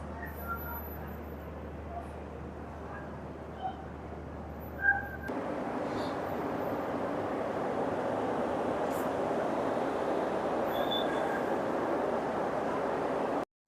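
Interior of a Vande Bharat express train, a steady, even rumble and hiss of the moving carriage that carries on throughout, with a brief knock near the middle.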